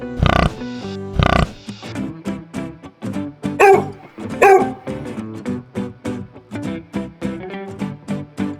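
A pig oinks in short, repeated grunts, some voiced and tonal, coming in a fairly steady rhythm close by with brief pauses, with a couple of louder squeals near the start.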